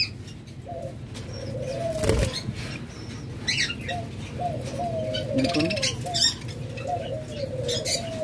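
Caged lovebirds, budgerigars, cockatiels and doves in a bird shop, with soft coos and scattered chirps running steadily beneath someone talking nearby.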